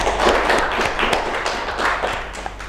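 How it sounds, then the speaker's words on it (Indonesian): A small group at a stage event claps for a couple of seconds, a dense patter of hand claps that stays fairly even throughout. "Tepuk tangan dulu dong"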